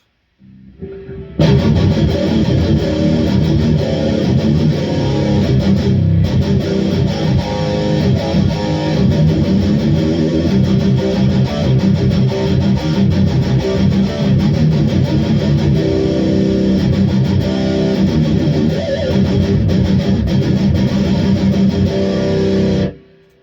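Heavily distorted high-gain metal electric guitar played loud and sustained, with thick chugging chords ringing out continuously before cutting off abruptly.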